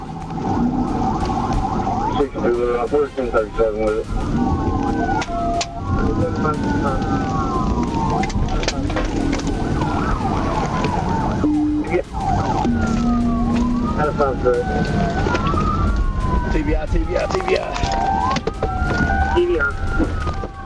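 Police sirens wail continuously in rising and falling sweeps during a high-speed chase, over a loud, steady rumble of traffic and rain, with a second siren overlapping.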